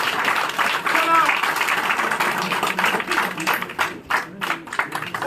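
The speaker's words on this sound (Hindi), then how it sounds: "जोरदार तालियों के साथ" Applause welcoming a new member into a BJP party office in Jammu and Kashmir, a broad wash of clapping from a crowd that rises and fades over several seconds, with voices talking beneath it.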